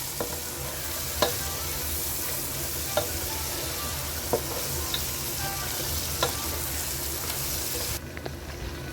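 Rice with dried lemon stirred in a frying pot for chicken kabsa, a steady loud sizzle with a few sharp scrapes of the spoon spaced across it, the frying cut off abruptly near the end.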